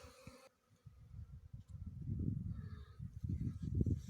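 Honey bees buzz around freshly opened beehives in an apiary, a soft low hum that swells and wavers close by after a brief quiet start, with no talk.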